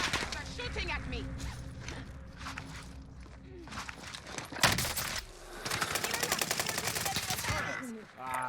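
Rapid automatic gunfire from an STG-44 in a shooter video game crackles in dense bursts, mixed with footsteps and mechanical clatter, with a voice talking in places.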